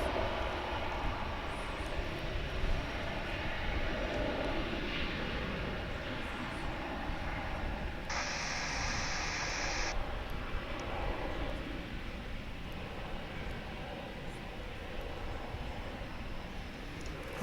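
An American Airlines jet on the runway at Dallas/Fort Worth airport gives a steady, loud engine roar with broad rushing noise that holds evenly throughout.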